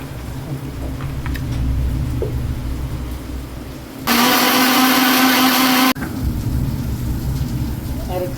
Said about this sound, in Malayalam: 2 തക്കാളി, അതേപോലെ മല്ലിച്ചപ്പ്, പച്ചമുളക്, കറിവേപ്പില, ഇച്ചിരി പുതിനയും കൂടി നമ്മൾ അരച്ചെടുക്കുന്നു.